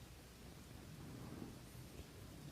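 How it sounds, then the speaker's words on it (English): Summer Night Thunder background track: a steady rainstorm wash with low, rolling thunder rumbling throughout, continuous and fairly faint, without any speech. "I'm going to do the Thunder, Summer Night Thunder background for this one."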